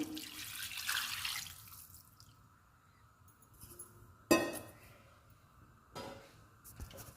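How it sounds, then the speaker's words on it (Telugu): Faint running and splashing water being poured into a cooking pot of country chicken curry, with a couple of sharp clinks of a vessel, quiet and close, with brief pauses between pours. "ఇప్పుడు ఈ వాటర్ పోసుకుందాము"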